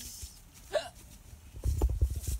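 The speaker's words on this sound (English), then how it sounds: "Are you talking about me hiccuping?" A single sharp hiccup from a person who ate too fast, heard during an outdoor picnic, followed by rustling and thumping handling sounds.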